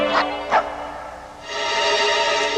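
A dog barks and yips a few times close by, the sharp calls giving way to a sustained whining, whimpering cry.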